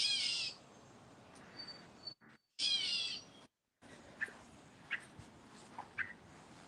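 A bird calls from a rooftop in a few short, faint, scattered chirps, broken by a couple of louder bursts and gaps of near silence.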